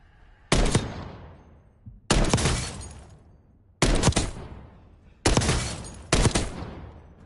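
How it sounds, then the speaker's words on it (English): Rapid gunfire in a Call of Duty battle royale match, heard as five separate sharp bursts, each a loud crack that trails off, with brief near-silence between them. "See that rapid fire?"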